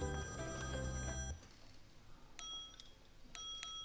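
A telephone bell rings in a loud burst for about the first second and a half, then gives way to quieter, scattered bright chime-like tones.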